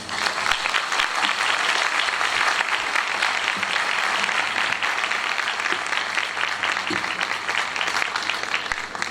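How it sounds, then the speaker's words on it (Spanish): Strong, sustained audience applause fills a theatre talk hall, a dense wash of many hands clapping steadily from start to finish with no voices breaking through. "les damos la bienvenida con un fuerte aplauso"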